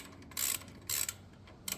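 Three short bursts of ratcheting clicks from a wrench backing out a shifter bolt on an RCR GT40 kit car, close and fairly quiet, with brief pauses between strokes.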